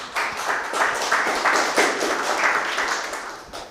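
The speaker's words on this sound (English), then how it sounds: "let's give Laura all of our attention and a big round of applause" Conference audience applauding a workshop presenter, steady moderate clapping from a room of people, fairly even and sustained for a few seconds.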